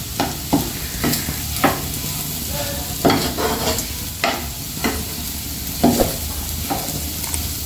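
Onion egg curry, made without masala, sizzles steadily in a pan while a spatula stirs and scrapes it in repeated close strokes, with no talking.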